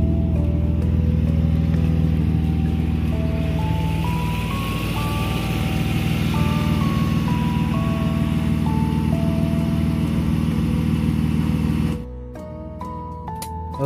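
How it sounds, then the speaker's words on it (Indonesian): A BMW E36 320i with the M50 engine idles after an oil change with fresh PTT 10W-40, a steady low drone heard close by with melodic music playing over it, the music briefly dropping in level near the end. "suara mesin BMW 36 ini"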